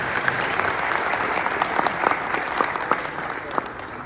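An audience at a gathering breaks into a dense, steady round of clapping, a full, close burst of applause lasting several seconds.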